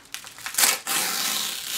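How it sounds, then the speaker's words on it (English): A paper-wrapped book package is torn open, crinkling and ripping of paper in a few quick bursts followed by a steady rustle, close by with no talking. "we're going to do an unboxing today, or an unwrapping, I guess you could call it"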